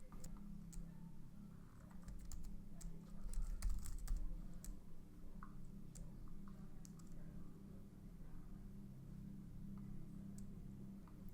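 Computer keyboard typing in a steady patter of quiet key clicks, running throughout over a low background hum while designing an alert component in Figma.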